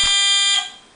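A buzzer on a fischertechnik driving robot gives one short, shrill electronic tone, loud and close, cutting off and fading within a second.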